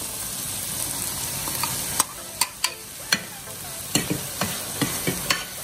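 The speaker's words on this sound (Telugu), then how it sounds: "ఇప్పుడు పాలకూర వేసుకుందాం, మనం మిక్సీ చేసి పట్టుకుంది" Blended spinach puree for palak paneer stirred in a hot pan after frying, with a continuous soft sizzle and a run of sharp spoon scrapes and clinks against the pan, close and clear, no talking.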